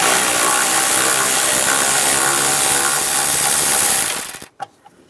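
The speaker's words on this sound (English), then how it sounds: "Using the 10mm socket, there's a bolt here and then a nut over here." A 10mm socket on a ratchet backing a bolt off a 2007-2013 Chevy Silverado: a fast, continuous close clicking of the ratchet pawl for about four seconds, then it stops abruptly with a couple of faint taps.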